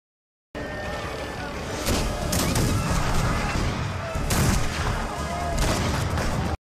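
Gunfire from an Indian film scene in which soldiers fire at rebels: several loud, broad bursts of shots and impacts over a noisy, rumbling battle background, with no speech.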